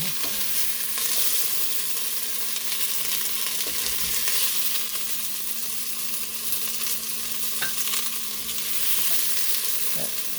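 Beef searing in a cast iron Dutch oven for stew, a steady, loud broadband sizzle that holds unbroken for about ten seconds with a few faint clicks of a utensil and no talking.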